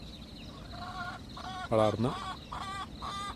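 Country hens kept in Dubai, newly laying eggs, cluck in a short series of close, rhythmic calls with one louder burst in the middle; a voice speaks briefly underneath.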